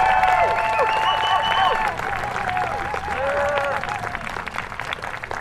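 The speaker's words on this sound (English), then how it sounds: "they need a good round of applause" An outdoor rally audience gives a round of applause for the organizing committee, sustained clapping with scattered cheers and voices over it, loud at first and slowly tapering.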